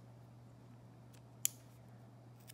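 A single quick scissor snip trims the string ends of a knotted bracelet, crisp and close against a quiet background hum.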